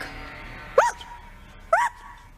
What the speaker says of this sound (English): Let me hear you bark.